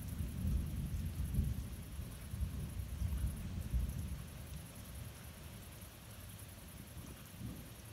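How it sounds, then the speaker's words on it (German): Low rolling thunder from a storm in the video game Fortnite, a continuous rumble with gusty, rain-like noise that rises and eases over several seconds, with no voices. "Manchmal ist halt doch nicht so laut, aber es gibt auch sehr laute Donners."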